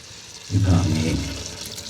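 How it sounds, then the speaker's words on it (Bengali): Water poured into pumpkin curry cooking in a pan, a sudden close gush and splash that swells over half a second and then settles into a softer bubbling hiss. "জল দিয়ে দেব। এটার মাধ্যমে সেদ্ধ হবে।"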